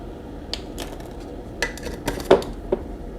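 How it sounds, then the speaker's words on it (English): Loose tea is spooned into a metal strainer or diffuser, giving several light metallic clinks and taps, close and distinct over faint background hiss, with no speech. "2 spoonfuls in my case, of tea into the strainer here, or the diffuser"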